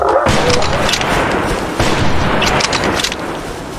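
Gunshots fired at a dinosaur in the hunting video game Prehistoric Hunt, heavy booming blasts with a long rumbling tail, loud and close, with a second boom partway through.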